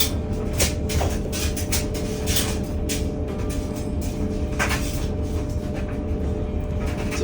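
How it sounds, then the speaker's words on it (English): A clothes dryer running indoors while towels are laundered gives a steady, broadband rumbling hum that fills the room continuously, with occasional faint clicks and rustles over it. "Sorry for the noise, our dryer's going because we have to wash some of these towels."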